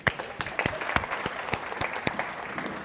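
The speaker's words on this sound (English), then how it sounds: "I want to clap for these people." A small group claps with quick, uneven handclaps that carry on steadily for a few seconds.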